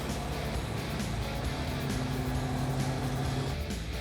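The engine of a rare convertible idles steadily and smoothly after warming up, a constant low hum close by with no voices over it.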